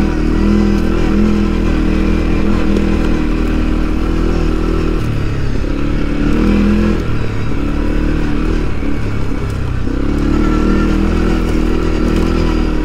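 A CFMOTO CFORCE 400 ATV climbs a rough trail, its engine droning loud and steady close by, with rattling clatter from the bumpy ground and a brief dip in revs midway before it pulls hard again.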